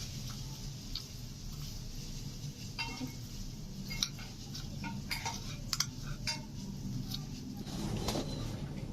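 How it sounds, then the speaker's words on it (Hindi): Metal spoon scraping and pulling apart cooked chicken in a dish, a series of small scattered clinks and scrapes against a steady low background hum, fairly quiet and close, with no talking. "इसको हमने चम्मच की मदद से इस तरीके से सारा इसका हम रेशा निकाल लेंगे"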